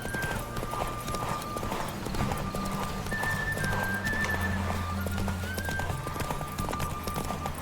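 Horse hooves clip-clop steadily through a ride in The Witcher 3, with occasional whinnies and game music underneath, loud and continuous throughout.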